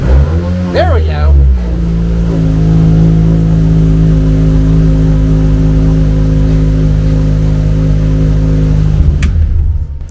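Car engine revving up and then settling into a loud, steady idle drone close by, with harmonic rumble holding for several seconds before cutting off.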